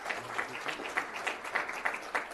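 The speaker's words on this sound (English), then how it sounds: "Would you please give them a nice round of applause for all their work." Audience applause at a county board of supervisors meeting: a short burst of clapping from a modest crowd in a meeting room, moderately loud, with a faint voice underneath.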